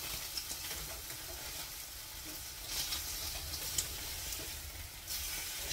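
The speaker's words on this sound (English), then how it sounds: "The bacon's getting nice and crispy." Bacon frying and crisping in a frying pan, a steady close sizzle and crackle with small pops, alone with no talk.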